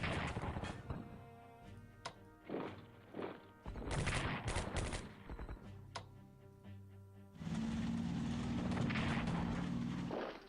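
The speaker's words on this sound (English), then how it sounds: "Defensive artillery." Booming artillery fire in the WWII strategy game Strategic Command: Europe at War, heard as several separate blasts with gaps between them, then a long, loud, sustained rumbling barrage near the end.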